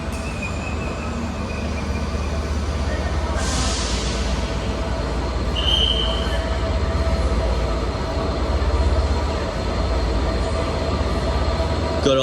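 A Class 67 diesel locomotive works hard at the rear of a passenger train, its heavy engine roar running loud and steady alongside rolling wagon noise, with brief higher squeals of wheels partway through.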